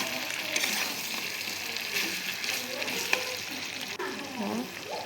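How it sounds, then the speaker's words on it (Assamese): Potatoes frying in a pan with a little hot water give off a steady, moderate sizzle close by, with occasional stirring scrapes and light bubbling. "পানীখিনি দি ভাজি আছোঁ এতিয়া"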